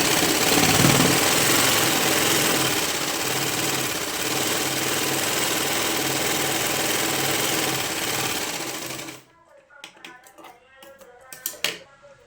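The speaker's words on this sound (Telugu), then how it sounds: "స్టిచ్ చేస్తున్నాను చూడండి." Sewing machine running steadily while stitching cloth piping with a half-inch margin, a loud continuous mechanical whir lasting about nine seconds before stopping abruptly, followed by a few soft handling clicks and rustles.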